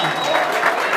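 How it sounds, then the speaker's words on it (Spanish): A brief burst of family applause at a quinceañera with a youth mariachi band, dense clapping from a gathered crowd lasting only a second, with voices mixed in. "el aplauso bonito, que se escuche familia"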